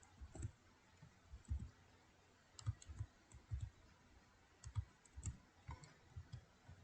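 Typing on a computer keyboard in Microsoft Word, a soft, close patter of key clicks in short uneven bursts throughout, with no talking.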